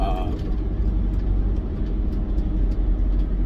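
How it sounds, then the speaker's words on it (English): A truck drives nearby outdoors, a loud, continuous low engine rumble that holds steady close by, with a brief snatch of voice at the start. "what is this truck doing?"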